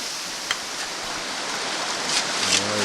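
Water rushes steadily through a gold sluice box at Canvastown, a close, even hiss of flowing water with no talk.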